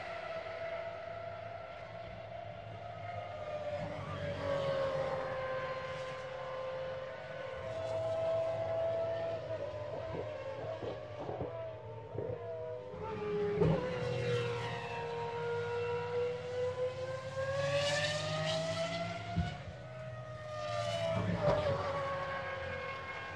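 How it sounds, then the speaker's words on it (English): Pagani GT race cars accelerating around the roughly 5 km Barcelona circuit, engine notes climbing and dropping through gear changes as several cars pass at varying distances, a continuous, moderately loud track soundscape. "So let's just listen in as the Pagani's accelerate around nearly a 5 kilometer long"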